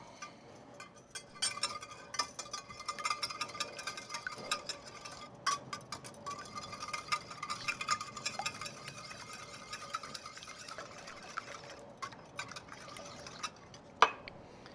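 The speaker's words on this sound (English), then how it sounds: "So we're gonna crack however many eggs it takes to kind of fill up this container. Let's go with 4 and see if that's enough. Whisk them up." Four eggs are whisked in a container for an egg wash, giving quiet, rapid, rhythmic clicking and tapping that continues throughout, faint and close, with no speech.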